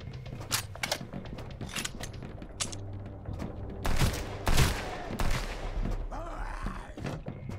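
Gunfire in the video game Sunkenland, scattered bursts of shots in quick succession with heavier blasts midway, mixed with mechanical clicks and game noise.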